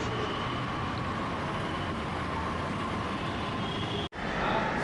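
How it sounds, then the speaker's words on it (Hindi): Busy street ambience at Seelampur metro station in Delhi, with a continuous rumble of trains and road traffic, steady and fairly loud, broken once by a brief dropout. "तो ये है सीलमपुर मेट्रो स्टेशन"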